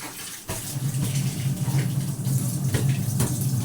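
Water runs steadily from a tap, a continuous close splashing flow after a brief quiet start.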